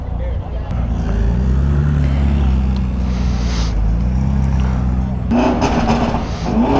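A McLaren 720 supercar rolls past at a car meet, its deep engine drone holding steady under nearby voices before the tone shifts and brightens near the end.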